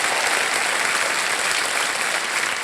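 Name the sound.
applause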